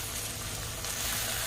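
Chicken frying with onions in a pan on high flame for chicken do pyaza, a steady close hiss and sizzle with no break.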